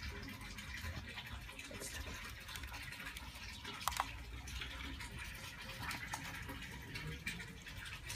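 Steady water flowing from a garden hose, a continuous splashing rush with light patter, moderately close and unbroken, with no voices.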